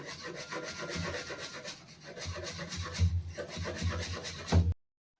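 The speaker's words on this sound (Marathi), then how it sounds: "आता ह्या कोथिंबीरला आपण कापून घेऊया बारीक बारीक मस्तपैकी" Fresh coriander being finely chopped with a knife on a board while making crunchy samosas, a steady close run of rubbing, scraping cuts with a few heavier taps near the end, with no one talking.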